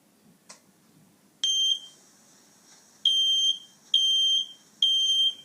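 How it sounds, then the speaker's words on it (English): A home smoke and fire alarm sounds a series of loud, high-pitched electronic beeps in a repeating pattern, four bursts with short gaps, against a quiet room. "On detecting smoke or fire at home, the fire alarm installed in your home starts ringing."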